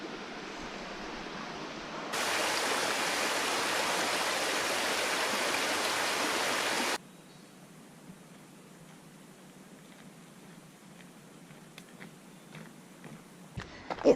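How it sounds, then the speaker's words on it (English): Shallow, slow-moving Stevenson River near Marysville flowing past a crossing, a steady broadband wash of water that swells louder for several seconds mid-clip before settling back to a softer, continuous trickle, with no voices. "the shallow, slow-moving Stevenson River, where we are right now, just crossing"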